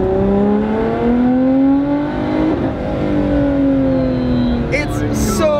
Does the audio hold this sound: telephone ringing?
no